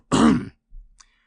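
A narrator's voice imitates a pompous, self-important cough: one loud, gravelly throat-clearing burst, followed by a softer short grunt and a faint click.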